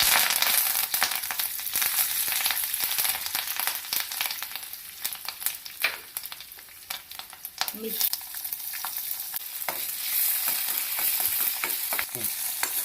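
Mustard seeds, cumin and curry leaves sizzle and crackle in hot oil in a kadhai, a steady close frying hiss with scattered sharp pops and stirring scrapes throughout.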